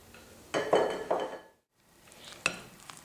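Melted, cooled butter being stirred into a tart filling of eggs for a cranberry walnut tart, a few close clinks and scrapes of utensil against bowl, then a brief pause and a lighter tap.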